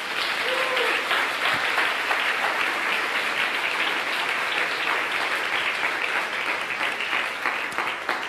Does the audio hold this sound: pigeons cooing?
no